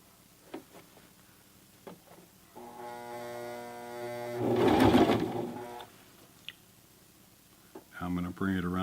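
A Toyota FSG325 sewing machine stitches the side seam of a pair of jeans, its steady motor whir rising and then fading after a few seconds, with a louder burst in the middle and a voice talking around the stitching.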